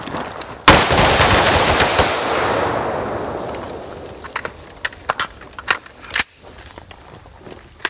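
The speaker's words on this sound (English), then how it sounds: "Doing three quick shots on the head box." Gunfire rings out at a shooting range aimed at a target's head box, one sharp loud report with a long fading echo, followed by fainter scattered shots and clicks nearby.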